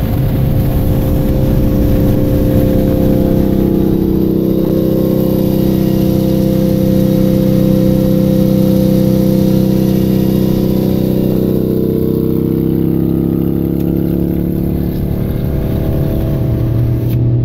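A 2007 Harley-Davidson V-Rod motorcycle engine rumbles steadily with a deep, continuous drone while riding, recorded from an adjacent car with the window down, loud and close without talk.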